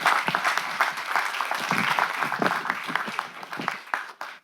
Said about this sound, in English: Please give them a round of applause, you guys